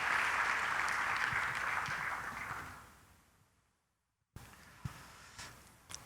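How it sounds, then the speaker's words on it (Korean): Church congregation applauding in blessing during a Sunday worship service, a dense, loud burst of clapping that fades out over about three seconds, followed by a quiet room with a few scattered thumps and claps. "우리 다 같이 박수로 축복하며"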